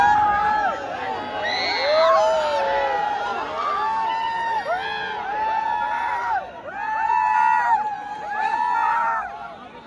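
A dense, loud crowd packs the ghats of Varanasi during Dev Diwali, a continuous roar of overlapping voices, shouts and calls close around, with excited cries rising and falling throughout.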